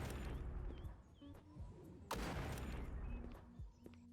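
Video game shooting effects in a homemade neighbourhood warfare game: a few sharp gunshot bursts and thuds, one loud crack midway, spaced irregularly among quieter background sounds.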